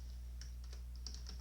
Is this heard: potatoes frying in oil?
no